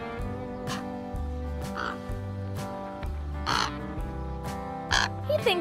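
A crow caws several times beside a pool, with harsh calls rising over steady background music, the strongest near the end.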